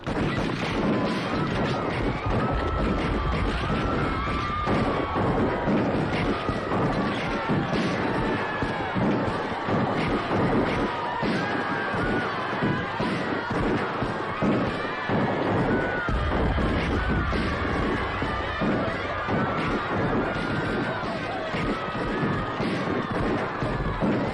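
A massacre reenactment carries dense, continuous gunfire: rapid overlapping cracks and bangs of a volley that sustain loudly throughout, with crowd noise mixed underneath.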